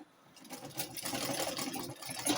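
A sewing machine back stitching pleated gown fabric runs in one continuous close burst of fast needle chatter, steady and fairly loud from start to finish.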